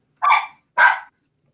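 Two sharp, loud dog barks close by, about half a second apart, with a quiet gap after them and no talking.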